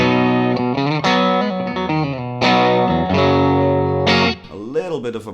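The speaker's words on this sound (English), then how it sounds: "Bit of a breakup sound from the Vox AC15" Electric guitar through a Vox AC15 tube amp with a slightly gritty, warm overdrive, strummed chords and bends ringing out, ending in a few quieter noodling notes.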